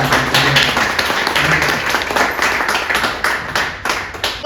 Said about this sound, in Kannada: ಎನ್ ಕೇಶವಮೂರ್ತಿ ಅವ್ರಿಗೆ ನಿಮ್ಮೆಲ್ಲರ ಜೋರು ಚಪ್ಪಾಳೆ ಬೇಕಂತ